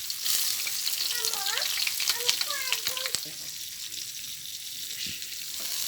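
Onion drops into hot oil with a bay leaf in a wok, setting off a bright, close sizzle that persists throughout while a voice speaks briefly over it.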